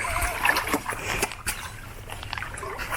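A dog swimming in trail creek water splashes steadily and irregularly near the listener, with trickling water throughout and no clear speech.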